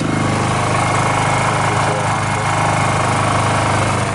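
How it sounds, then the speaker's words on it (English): A small Honda engine runs steadily nearby for an off-grid setup, with a constant buzzing drone and rapid mechanical pulsing like a lawn mower, loud and unbroken throughout. "And you hear this little Honda running."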